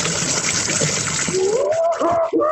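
Beer, the weakest on tap, poured from a bar tap into a glass, a steady hissing rush of liquid that thins into a gurgling trickle toward the end, heard close up.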